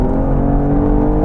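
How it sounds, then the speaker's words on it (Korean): Genesis G80 engine in sport mode, a steady, loud, close-up drone with a smooth hum and no voices over it. "엔진 사운드 어느 정도 살아나면서 스포티한 매력도 한껏 과시하기 시작하죠"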